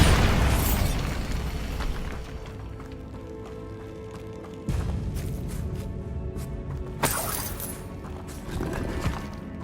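Explosion effects from the Bombarda spell in the Hogwarts Legacy video game, heavy booming blasts with rumbling debris, a few sharp hits spaced across a noisy battle.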